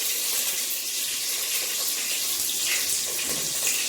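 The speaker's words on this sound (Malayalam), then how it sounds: "കടുക് പൊട്ടട്ടെ തുടങ്ങി" Mustard seeds crackle and pop in hot oil for semolina wheat rava upma, a dense, bright sizzling hiss that stays steady and close, with no voices.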